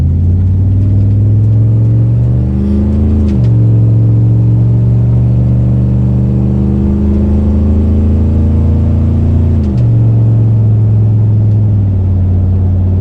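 GMC Sierra 2500 HD pickup truck on the road after a pitman arm replacement, its engine holding a steady loud drone alone, with two brief pitch shifts as it revs and settles back.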